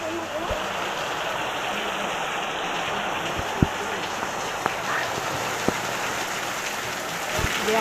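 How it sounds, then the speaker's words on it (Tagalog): Heavy rain falls in a steady, even roar that runs without a break, with occasional drips and taps close by. "Lakas ng ulan."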